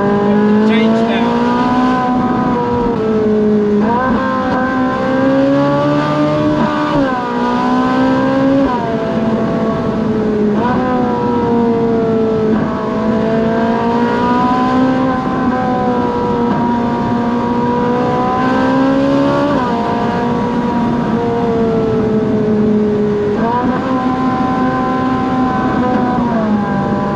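Modern supercar engine accelerating hard on the road, revs climbing and dropping sharply with repeated quick gear changes, loud and close throughout, with a voice talking over it at times.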